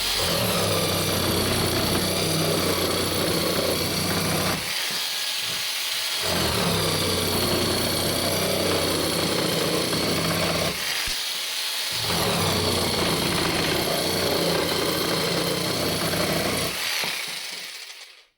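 A GTM JS18/65 cordless jigsaw runs gently at low speed, cutting in a steady, buzzing, rattling drone. It stops briefly twice, with no speech.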